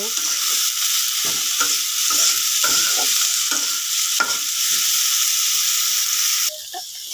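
Vegetables stir-frying with salt in a pan for vegetable noodles: a steady loud sizzle with repeated scraping stirs of a spatula throughout, the sizzle dropping abruptly near the end.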